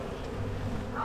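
A dense, steady buzz of a honeybee swarm settling into a hive, many bees humming together, close and continuous for a brief moment.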